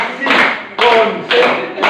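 A group playing a rhythmic concentration clapping game, with three or four evenly spaced bursts of clapping in a steady beat and voices chanting along with it.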